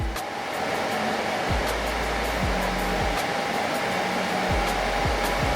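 A Morento air purifier fan runs at its highest setting, level 4, giving a loud, steady whooshing hum close by with a faint tonal whine. Low thumps and clicks recur now and then, and no one speaks.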